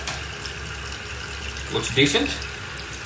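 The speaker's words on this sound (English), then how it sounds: "So I went ahead and turned the water back on." Water runs into a toilet tank refilling after the supply is turned back on during a repair, a steady hiss with a brief louder surge near the end, under a voice.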